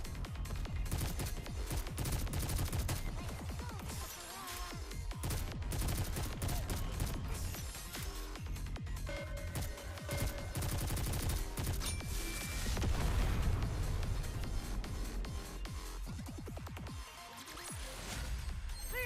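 Sustained gunfire and explosions from the mobile shooter game Goddess of Victory: Nikke, dense and continuous over a loud game soundtrack throughout, with no spoken voices.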